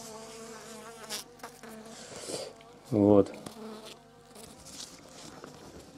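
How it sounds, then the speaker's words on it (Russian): Honeybees buzzing around queen cages in an apiary, a dense close insect drone running throughout with a louder burst midway, someone speaking briefly over it. "пчелы достаточно активные"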